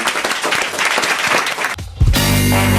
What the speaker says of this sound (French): On peut remercier et applaudir encore Alain Pozzuoli.